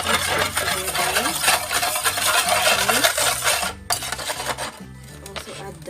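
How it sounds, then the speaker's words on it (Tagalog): Chicken wings tossed with chicken powder in a bowl, a steady close scraping, clattering stir of utensil against the dish, with a short pause near the end before it resumes. "a little bit of chicken powder, just mix them together."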